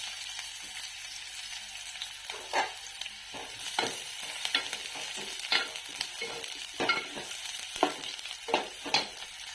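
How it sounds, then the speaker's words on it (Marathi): Onion frying in oil for a village-style goat mutton yellow rassa, with a steady crackling sizzle and regular spatula scrapes as it is stirred. "कांदा टाकते आता कांदा चांगला आपल्याला लाल होईपर्यंत भाजून घ्यायचा"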